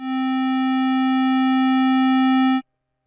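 Oscillator 2 of a Moog Matriarch holds a single bright, buzzy sustained tone for about two and a half seconds, then cuts off abruptly into silence. It is loud and steady, with no talking.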